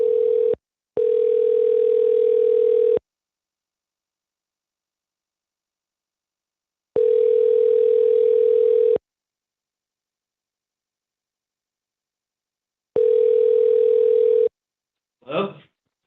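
On a recorded telephone call, a steady ringback tone sounds in three long bursts separated by silences, clear and alone, before a brief voice at the very end.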